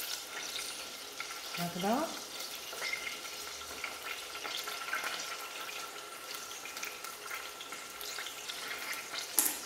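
Garlic sizzles and fries in a pan, a soft continuous crackle with occasional stirring scrapes and clinks close up, while a voice briefly speaks over it.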